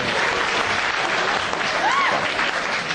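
A comedy audience claps at a stand-up show, a dense wash of applause with a voice briefly rising over it partway through.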